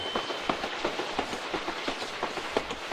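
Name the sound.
cartoon train clickety-clack on the track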